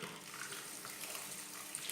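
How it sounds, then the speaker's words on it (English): Makeup brushes are rinsed under running tap water, giving a steady, close rush of splashing water with no speech. "cleaning out each brush more under running water"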